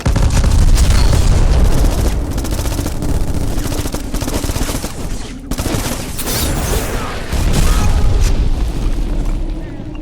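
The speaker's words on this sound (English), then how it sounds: "We can have a rocket launcher fight." Rocket launcher blasts in the shooter game Black, a dense, loud rumble of overlapping explosions and booming impacts with a short lull midway before the roar surges back.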